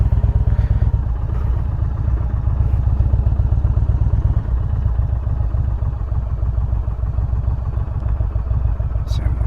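A motorcycle creeps along at walking pace through a slow-race practice drill, its engine holding a steady low, loping idle with faint clatter throughout and no sharp revs.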